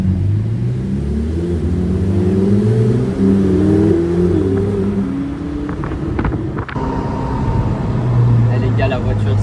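Sports car accelerating in Dubai, a steady engine roar building and holding from inside or near the car, with people talking over it throughout.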